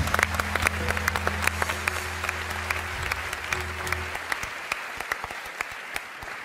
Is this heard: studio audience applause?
yes